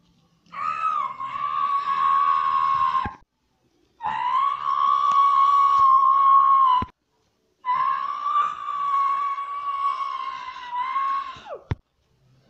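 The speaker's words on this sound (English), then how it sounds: "how dare you scream at me?" Rocko, a cartoon character from Robot Chicken, lets out three long, loud, shrill screams, each held for about three seconds with short silent gaps between them.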